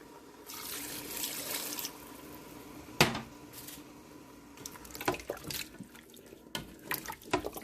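Water runs into a Ninja Foodi pot for Puerto Rican beef stew, a close splashing flow over several seconds, followed by a sharp clack and scattered clinks and sloshes.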